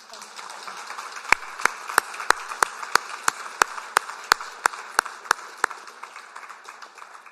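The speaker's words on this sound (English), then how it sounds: "I think we should give them a round of applause." Applause at a general election debate in Limerick comes through as sparse, crisp claps in a steady, slow rhythm, about a dozen distinct hits over a faint room background.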